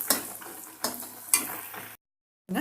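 A spoon stirs buttermilk and flour in a pan to break up lumps for morkali upma, making three sharp scraping strokes with a soft sizzle between them, a short silence, then more scraping.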